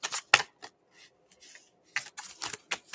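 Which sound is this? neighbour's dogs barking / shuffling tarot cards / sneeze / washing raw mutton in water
shuffling tarot cards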